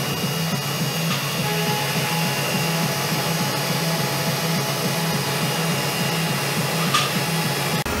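A milling machine takes a heavy facing cut of about 76 thousandths of an inch on a cast A356 aluminum saw vise base, giving a steady loud whirring hum with a few faint higher squeaks.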